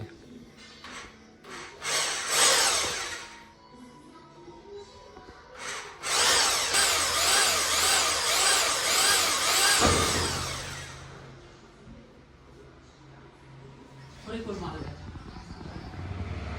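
Power drill boring holes to mount a strip, with two loud whining bursts near the start and a longer sustained run in the middle, a few short clicks between them and some speech-like sound at the end.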